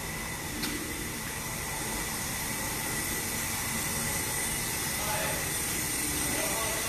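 Steam hisses steadily during essential oil distillation on a farm in Dalmatia, Croatia, a constant broadband rush filling the space, close and fairly loud.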